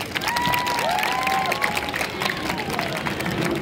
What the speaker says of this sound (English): show us with a round of applause if you're having a good time